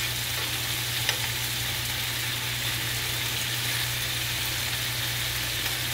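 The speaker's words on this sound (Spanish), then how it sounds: "Solo se está cocinando con su misma grasa del pollo." Chicken thighs fry in their own rendered fat, giving a continuous, even sizzle and crackle close to the pan, steady throughout, with no talking.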